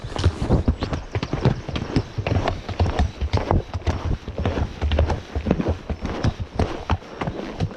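Hooves of a horse on a trail ride beat out a quick, regular clip-clop close to the microphone, with light wind buffeting in the background.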